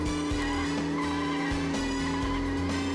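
Car tires skidding and sliding in Road Trip Adventure, a toy-like racing game with an RS Magnum engine, a sustained loud tire squeal over engine hum, with a rhythmic pulsing pattern through the whole stretch.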